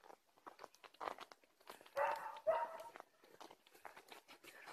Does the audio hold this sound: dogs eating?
yes